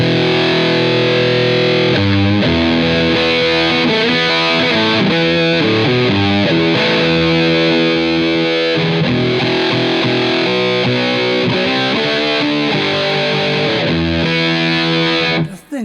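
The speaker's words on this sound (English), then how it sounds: "But it's a fuzz that you can't control how much fuzz you have." An electric guitar through an early fuzz pedal with no fuzz control, heavily distorted and saturated chords and riffs played loud and continuously for about fifteen seconds.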